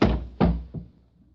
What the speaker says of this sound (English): I was awakened by the door.